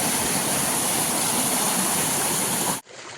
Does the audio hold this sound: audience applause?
no